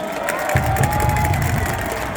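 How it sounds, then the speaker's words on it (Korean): Baseball fans in the stands cheer and clap to welcome the player of the game onto the post-game interview stage, a lively crowd roar with scattered whoops that swells after a brief moment and stays steady. "여러분들 환영의 박수 한번 보내주세요."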